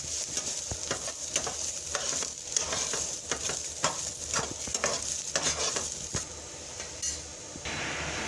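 Coconut, green chillies and garlic roast together in a pan. A spoon scrapes and stirs in quick, repeated strokes against the pan over a steady, close sizzle.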